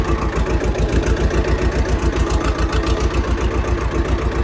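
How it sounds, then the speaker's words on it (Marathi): Tractor engines, including a Swaraj 724 XM Orchard, idle nearby in a field during ploughing with a steady, rhythmic low chugging that runs throughout, loud and close, with no talking. "माझ्या बरोबरच इथं किती ट्रॅक्टर चालू आहे तुम्हाला सांगू का"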